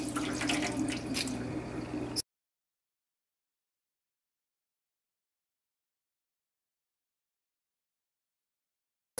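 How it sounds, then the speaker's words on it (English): Water squeezed by hand out of freshly dyed, cooled angora wool, a soft trickling and dripping for about two seconds before it cuts to silence. "you can pick it up and gently squeeze it to get the water out"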